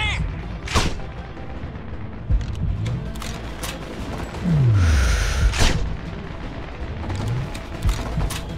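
Heavy booms and gunfire ring out in a Sniper Ghost Warrior 2 firefight, with sharp blasts spaced through the scene, one with a descending whoosh before a louder explosion, over a steady background of combat.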